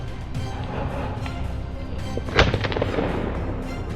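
A sharp, loud rifle shot cracks out during a wild boar hunt on Moroccan farmland, one sudden blast with a brief rolling echo over quiet outdoor ambience, followed by a few fainter knocks.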